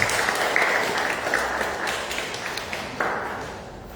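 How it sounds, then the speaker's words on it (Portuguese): Steady applause from a church congregation during a Lent Sunday service, at the installation of a board and leadership, with dense clapping filling the room throughout with no voices. "uma salva de palmas também."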